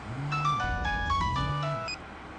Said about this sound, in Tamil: ஏங்க அந்த ஆள் ஃபோன் அடிக்குதுங்க.